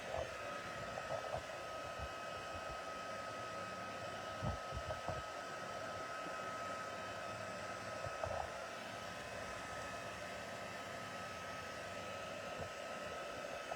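A heat tool blows continuously while drying embossing paste on a card, a steady close whooshing roar that holds level with faint knocks and handling noises underneath.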